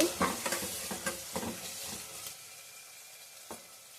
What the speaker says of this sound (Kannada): ಇದು ಸ್ವಲ್ಪ ಫ್ರೈ ಆಗಬೇಕು